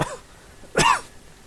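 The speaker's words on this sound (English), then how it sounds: "Pardon my coughing." A single sharp cough bursts out near the microphone, brief and loud, from someone pausing while playing Star Trek Online, with a faint quieter stretch before and after.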